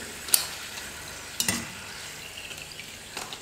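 Potato chips deep frying in hot oil and stirred with a ladle give a steady hiss. Sharp metallic scrapes and clinks land near the start, mid-clip and end, and no voices are heard.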